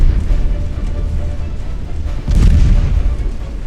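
In the naval game Ultimate Admiral Dreadnoughts, a torpedo strikes a battleship and sets off a loud, deep, rumbling boom that swells out of steady low battle noise and then settles back into a dull roar.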